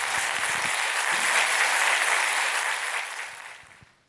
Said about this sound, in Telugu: మీ అందరూ మనస్ఫూర్తిగా దీవించండి చప్పట్లతో